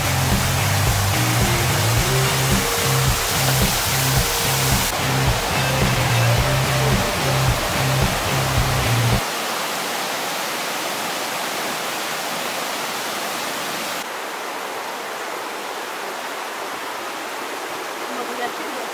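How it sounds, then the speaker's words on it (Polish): Rushing water of a waterfall in the Tscheppaschlucht gorge in Austria, a steady broadband roar with a louder, fuller stretch at first that then settles into a thinner continuous wash, with no talk. "Piękny ten wodospad jest"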